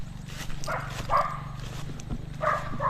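A dog barks a few times at a distance, short sharp yaps spaced apart over a steady low background hum.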